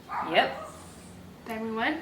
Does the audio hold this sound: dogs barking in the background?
yes